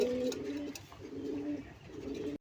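A domestic racing pigeon coos nearby in three low, rolling phrases with short pauses between them, fairly soft, against a faint background.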